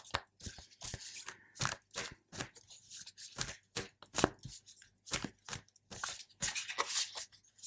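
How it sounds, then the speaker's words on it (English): A tarot card deck is shuffled by hand in quick, crisp bursts of riffling and slapping cards, repeated rhythmically throughout at close range with short pauses between. "So what I'll do first is I'll shuffle it"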